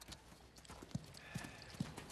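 Horse hooves clip-clopping faintly, with three distinct hoof knocks spaced roughly evenly over a couple of seconds against a quiet background.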